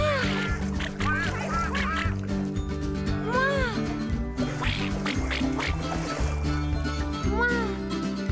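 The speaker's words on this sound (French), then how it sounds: "Trois petits coin-coin volent au-dessus de l'eau." Cartoon ducks quack repeatedly over a bright musical backing in the Twirlywoos children's show, the nasal calls popping up in short bursts throughout, clear and close.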